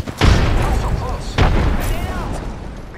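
A frag grenade detonates in the battle royale game Apex Legends as two loud booming blasts about a second apart, each with a rumbling tail, heard under gameplay chatter.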